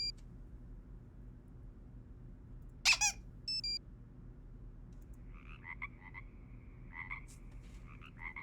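A squeaker toy in a Nancy Drew video game lets out a sharp squeak, then a few short chirping squeaks follow against a quiet, low background hum.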